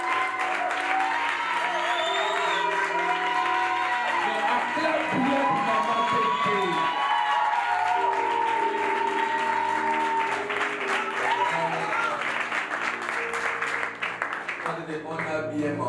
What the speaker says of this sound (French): Je voudrais qu'on acclame pour maman Tété.